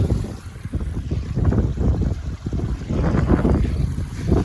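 A waterfall in Wensleydale gives a steady rushing, splashing wash of water, mixed with some wind buffeting on the microphone, with no talk.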